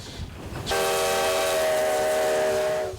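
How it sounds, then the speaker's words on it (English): A steam locomotive whistle, engine number 93 built in 1909 in Ely, Nevada, blows one long, loud, sustained tone for about two seconds, then cuts off, over a low rumbling background. "the ghost train of Ely, Nevada rides again."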